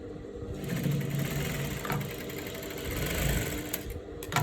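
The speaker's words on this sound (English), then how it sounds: "And I'll go ahead and sew it." Sewing machine running steadily while stitching a dress seam, a continuous close whirring hum with a rapid needle rhythm that stops briefly near the end.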